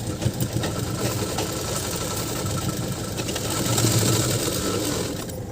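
A sewing machine stitches a salwar in one continuous run, a loud, close, rapid mechanical whir with rhythmic needle clatter that swells slightly midway, heard alone without talk.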